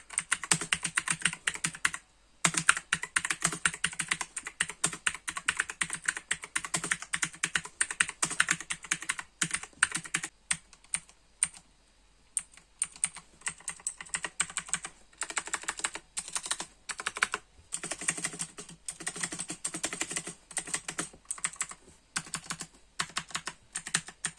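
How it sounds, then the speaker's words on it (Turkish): Rapid clacking of mechanical keyboard switches in a steady typing rhythm, with a few short pauses between bursts and no voices. "bu YH markası switch'lere bir ses testi yapalım"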